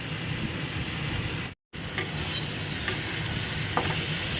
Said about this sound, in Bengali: খুব ভালো করে কষাতে হয়